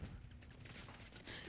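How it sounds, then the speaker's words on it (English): Rapid automatic gunfire from the Tempus Razorback assault rifle in a first-person shooter free-for-all match on the map Dome, a dense continuous burst of shots held at a fairly low, even level throughout. "the Tempus Razorback is an awesome AR to carry with you because it is a bullet hose"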